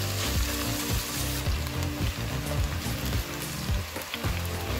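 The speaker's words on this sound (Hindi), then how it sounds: "प्याज को फ्राई करेंगे जब तक ये लाइट गोल्डन हो जाए।" Onions fry in hot oil with a dense, loud, continuous sizzle and crackle, close up, with busy rapid popping throughout.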